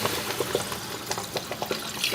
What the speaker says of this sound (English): To the sugar, I am now going to add my liquid.